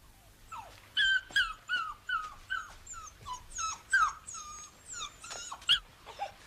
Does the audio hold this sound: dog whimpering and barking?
yes